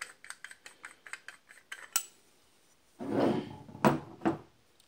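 A socket wrench removes the cap of a Hoffman 17C steam trap with a quick run of ratcheting clicks, a sharp metallic knock, then heavier scraping clunks of metal parts, close and without talk.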